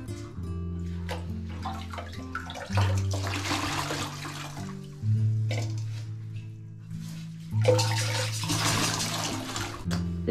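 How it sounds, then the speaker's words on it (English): Water from a toilet tank is sponged out and wrung into a bucket during a bathroom teardown, with repeated splashing and dripping bursts over a low background hum. "So now I'll get one of those big sponges and empty out the tank into a bucket."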